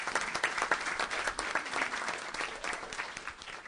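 Steady applause from a crowd at a City of Millville public meeting, continuous clapping that holds at an even level throughout without pause.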